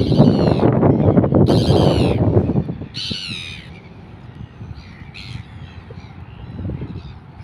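Bird calls ring out during a rainy outdoor fishing trip, with several loud squawking, crow-like bursts in the first few seconds and fainter calls after, over steady rain noise.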